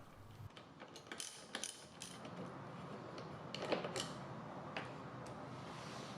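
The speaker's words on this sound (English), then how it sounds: "Remove the two 5mm Allen screws from the base of the top shelter." Two 5mm Allen screws being backed out of the base of the top shelter on a 2018 Honda Goldwing, heard as faint, close mechanical ticks and ratchet-like clicks in brief, irregular bursts over a quiet background.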